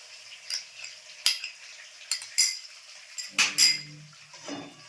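A utensil stirs beaten egg in a pan for chicken chow mein, with a series of sharp scraping clinks against the metal and a faint sizzle beneath, no voices.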